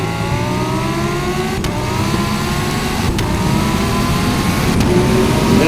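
An Underground Racing twin-turbo Lamborghini Huracan launches in a standing half-mile run. A loud, rising engine roar climbs through three quick upshifts, with the pitch dropping at each shift and then climbing again, and the sound stays strong throughout.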